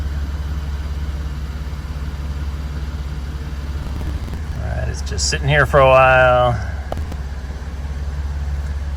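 A BMW M3 F80 with the S55 engine runs steadily during a DCT transmission oil procedure, a constant low hum with a brief rise and tone change partway through, while someone speaks over it.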